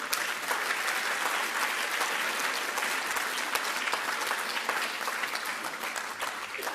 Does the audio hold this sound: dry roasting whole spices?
no